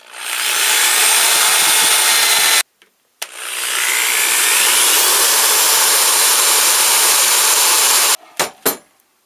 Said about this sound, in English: I'm going to drill it out, bolt it up